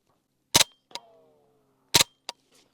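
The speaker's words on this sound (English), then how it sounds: "let me shoot a couple rounds through this" Two pairs of gunshots from an integrally suppressed 9mm bolt-action rifle made by Ronin Arms. Each shot gives a short, muffled crack, and a faint ringing decays after the first pair. Close by, with no talking.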